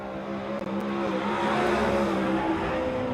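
A race car roars around Silver Dollar Speedway on a qualifying lap, its engine a loud sustained drone with steady harmonic tones that swell slightly as it passes, heard alone.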